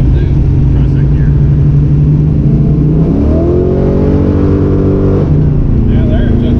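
Car with a Holley Terminator X EFI-tuned engine accelerating hard in second gear, a loud close engine tone climbing steadily in pitch for a couple of seconds before dropping back, with a steady rumble underneath.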